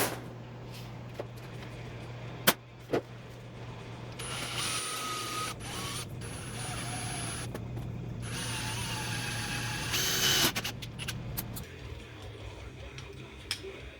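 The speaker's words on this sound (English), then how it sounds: "I can put the CNC back together and give it a test." A 3020 CNC router fitted with an upgraded 1.25hp Makita spindle motor runs a test, giving a steady high mechanical whine and hum with stepper buzzes, after a few sharp clicks, then easing off.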